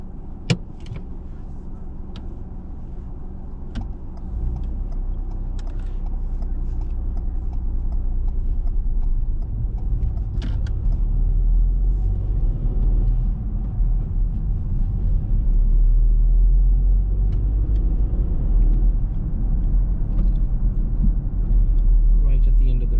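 A car driving on a Birmingham road during a mock driving test, heard from inside with a steady low engine and road rumble that builds as it pulls away, plus occasional clicks and ticks.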